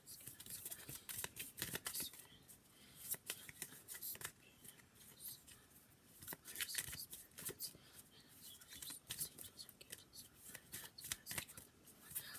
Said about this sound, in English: I know some of you guys like to hear this shuffle.